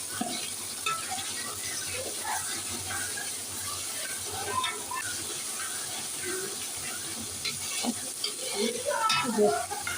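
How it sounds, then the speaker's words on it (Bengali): Garlic paste frying in hot oil with browned onions for beef biryani, a steady sizzle with stirring and occasional scraping of the pot, some faint background voices. "এখন রসুন বাটা দিয়ে দেওয়া"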